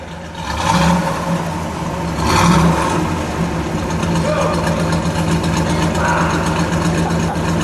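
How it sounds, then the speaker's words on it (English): A black 1965 Pontiac GTO hardtop with the Ram Air 389 V8 revs twice over a steady low idling rumble, close by, with people talking over the engine. "Go ahead, one more rev. Okay, it's got the rumble."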